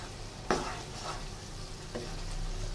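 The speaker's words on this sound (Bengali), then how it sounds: "এখন ভালো করে মশলাগুলোকে মিশিয়ে দিতে হবে মরিচের সাথে" A spoon stirs spices into a green chili pickle in a pan, giving scraping strokes and a soft sizzle with a couple of sharper clinks against the vessel, close and alone.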